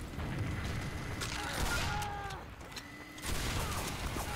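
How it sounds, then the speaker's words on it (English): Team Fortress 2 weapon fire and reload in a video game: a mid-level stretch of game noise with booming shots and metallic mechanism tones, some sounds rising and falling in pitch. "You guys saw it go chink, chink, chink, chink, and then it went boom, and then I only had one shot"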